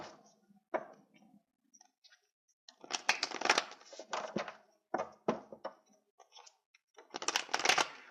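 Tarot cards are shuffled by hand in bursts of crisp riffling and flicking, close and fairly quiet, with short pauses between the clusters.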